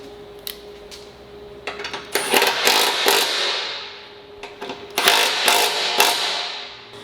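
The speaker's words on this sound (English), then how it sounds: "then you can go ahead and tighten your frame bolts again." Frame bolts of bolt-on truck traction bars being tightened with a ratchet, heard as close bursts of clicking ratchet and metallic clanks separated by quieter pauses, no voices.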